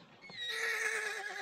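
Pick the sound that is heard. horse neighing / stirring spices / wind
horse neighing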